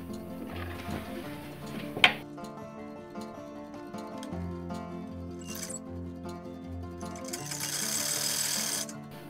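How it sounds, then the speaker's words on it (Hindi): A sewing machine stitches the folded hem of a cigarette pant. Its motor runs in short rhythmic bursts with pauses between them, and there is a sharp click partway through and a brief hiss near the end. "ये पीछे पल्ला में हमने सिलाई लगाया"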